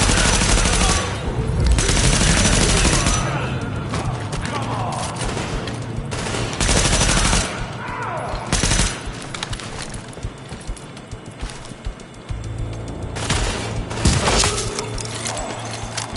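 Gunfire in The Division, a shooter video game: dense, loud bursts of automatic weapons fire with heavy overlapping shots and short lulls throughout.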